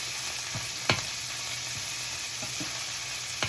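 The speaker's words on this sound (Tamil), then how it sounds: "கூனி இறால் போட்டுக்கொள்கிறேன். இந்த கிளஸ்டர் பீன்ஸ் வரைக்கு வந்து இறால் போட்டு வறுத்தா நல்லா இருக்கும்." Dried koonie shrimp frying for a cluster bean roast gives a steady broadband sizzle throughout, with a few sharp crackles and spatula scrapes standing out from the hiss.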